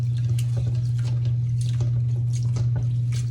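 Rice is washed in a bowl of water while cooking homemade shrimp scampi, with soft splashing and dripping sloshes repeating steadily over a constant low hum, close and alone.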